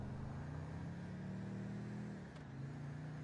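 Car in GTA Online droning steadily, the engine tone dipping briefly near the end as the car passes, heard alone at low level with no talk.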